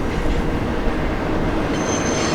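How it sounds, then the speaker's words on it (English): Rumble of a freight or passenger train rolling past on tracks below a road among cliffs, a steady broadband roar holding evenly throughout with faint high squeal near the end. "You got the train going by down there"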